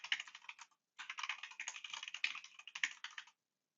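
Quiet, rapid clicking of keys on a computer keyboard as a root password is entered during a Linux install, two bursts of steady typing separated by a short pause, close and with no voices.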